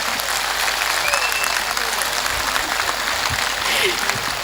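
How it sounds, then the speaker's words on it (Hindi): Dense, sustained applause from an audience after a qawwali performance at a stage programme, steady and loud throughout with a faint hum of crowd beneath. "एक बार इन सब के लिए खूब खुलकर जोर से तालियां बजाएंगे"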